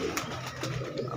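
Domestic pigeons coo close by in soft, low, murmuring calls that repeat in short throaty pulses over a faint background hum.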